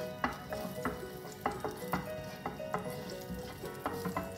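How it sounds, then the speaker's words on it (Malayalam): Fennel seeds sizzling in hot oil in a pan for beef varattiyathu, a steady crackling fry broken by sharp clinks and scrapes of a utensil, close and moderately loud with no voices. "പെരിഞ്ചീരകം എണ്ണ ചൂടായായിരുന്നു നേരത്തെ തന്നെ, ഞാൻ അതിലേക്കാണ് പെരിഞ്ചീരക ഇട്ടത്."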